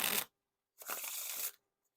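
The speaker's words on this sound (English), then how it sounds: "Now for the riffle shuffle or bridge shuffle." Riffle shuffle of a deck of Hollywood Roosevelt playing cards by Theory11, heard as a short crisp burst followed by a longer, fluttering ripple of cards riffling together, close and clear with quiet around it.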